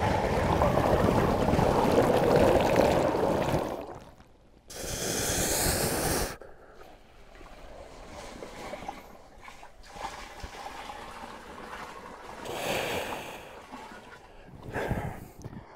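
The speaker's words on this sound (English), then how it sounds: "the water going back and forth is quite the sensation" Water sloshes heavily back and forth inside a 70 lb training bag during dynamic good mornings, with broad hissing surges that rise and fade in waves, loud up close, then quieter swishes between pauses.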